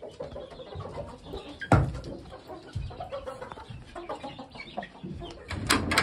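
Yard fowl roosters and hens at night give soft clucks and scattered rustling, with one sharper knock; no talking.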